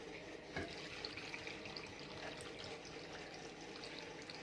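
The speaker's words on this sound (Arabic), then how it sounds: "ابدا افضي الميه كده بالراحه" Cooled water is poured slowly into a jar of cucumber pickles, giving a faint, steady trickle and splash that continues without a break.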